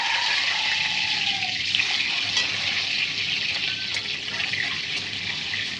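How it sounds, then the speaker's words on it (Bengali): Eggs fry in mustard oil seasoned with salt and turmeric, a continuous close sizzle and crackle that stays even and fairly loud, with no voices over it. "দেখুন ডিমগুলো আমি ভালোভাবে ভেজে নিচ্ছি।"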